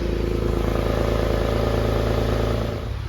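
A Porsche 911 (996) engine idles steadily through its exhaust, with a loose left-hand exhaust tip: a loud, continuous low rumble that dips slightly near the end.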